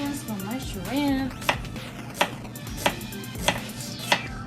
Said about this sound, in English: Onions don't cut themselves.